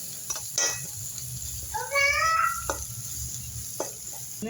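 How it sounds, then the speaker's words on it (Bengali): Ginger garlic paste sizzling in a pan while being stirred, a low steady fry with scrapes and clinks, a brief high voice-like call in the middle over the hiss. "এই আদা রসুন দিয়ে দিলাম। আদা রসুন দিয়ে একটু নাড়াবো"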